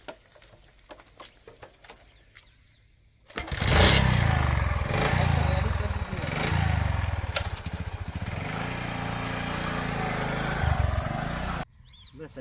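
A motorcycle engine starts after some faint clicks, then runs loud and close with a rough, throbbing idle and revving for several seconds before cutting off abruptly.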